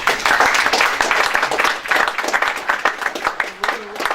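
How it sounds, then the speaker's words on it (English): A round of applause for Eric from the audience at a money and property investment seminar, dense clapping filling the room for about four seconds with voices mixed in. "Let's give Eric a round of Thank applause."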